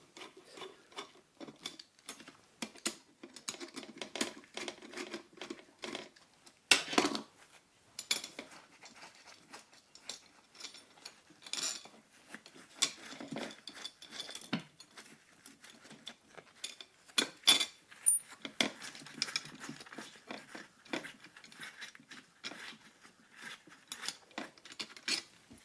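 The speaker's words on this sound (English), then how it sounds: "I'm now removing the gear ring from the turret base" A steel gear ring is worked off the turret base of a 1/6 scale Panzer III model, with a long run of irregular metallic clicks, taps and clinks, some sharper knocks scattered throughout.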